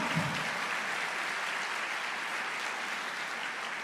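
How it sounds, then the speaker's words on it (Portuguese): Church congregation applauding during a sermon, a steady wash of many hands clapping that holds at an even level throughout. "Aplauda o Senhor, glorifique a Deus."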